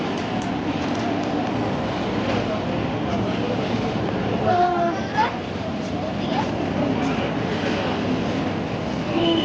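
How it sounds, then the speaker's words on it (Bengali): A train rumbles past close by with steady, loud clatter and a few high squeals, while a voice talks over the noise. "আমরা আরেকটা ট্রেন যাচ্ছে সাইড দিয়ে"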